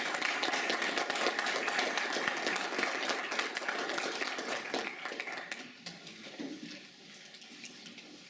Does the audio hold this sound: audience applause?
yes